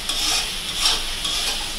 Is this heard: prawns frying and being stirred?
yes